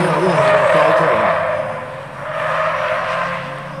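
Mitsubishi Lancer cars braking hard over and over on a track during a driving experience day: loud, sustained tyre squeal and skidding that dips and then rises again.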